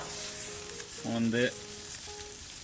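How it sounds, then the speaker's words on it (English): Steaks, already cooked sous vide, sear briefly on a hot grill for a crust, giving a steady sizzle with a louder burst midway and brief voices in the background. "I put them on the grill for about a minute and a half on each side."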